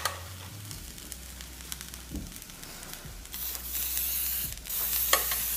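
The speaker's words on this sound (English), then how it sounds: "Now if you want some crispiness, I use some cooking spray." Coconut-oil cooking spray hisses in a burst over a steady sizzle of a grilled cheese cooking on a hot grill, with a few clicks and clanks nearby.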